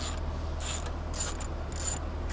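A ratchet with a 10 mm socket loosens the airbox nut on a 2019 Chevy Silverado 1500, giving a close, crisp clicking in short repeated bursts against a low background hum.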